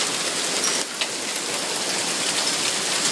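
A 2013 hailstorm in Springfield, Massachusetts, drops hailstones about hand-sized in comparison, a loud, dense, unbroken roar of impacts with no voices over it.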